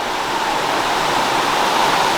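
Steady rushing water of the River Black flowing near a footpath by an old mill leat, a continuous close hiss and gurgle with no breaks and no voices.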